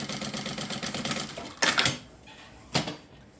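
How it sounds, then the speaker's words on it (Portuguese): Sewing machine stitching a seam down the middle of a fabric toiletry bag, starting with a backstitch: a steady rhythmic motor hum, then two short louder bursts of stitching, with no talk. "a minha primeira costura vai ser aqui no meio, ó. Retrocesso no início. E aí eu venho seguindo a linha até o final."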